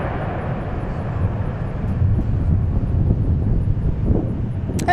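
A British Airways airliner departs Dallas/Fort Worth International Airport, its engines a steady distant roar mixed with wind buffeting the microphone.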